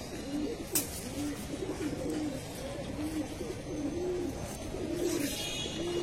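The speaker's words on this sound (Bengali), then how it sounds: "প্রায় এখানে 2 থেকে 250 কবুতরের মতো বসার প্লেস আছে।" Pigeons coo inside a large pigeon loft with perches for a couple hundred birds, steady overlapping low burbling coos repeating every second or so, moderately close over constant ambient hum, without speech.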